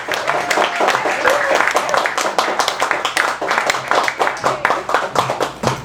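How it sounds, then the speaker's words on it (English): Audience at an open mic poetry reading claps for a poet, a steady patter of hand claps throughout, with some chatter and a voice faintly in the mix. "let's have a huge round of applause for the poet Kevin Spenst"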